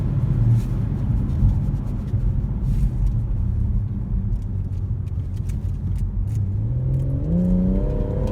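Inside a moving BMW M140i Shadow Edition, a low engine rumble and road noise hold steady before the engine revs up near the end, its note rising and winding upward through the last seconds.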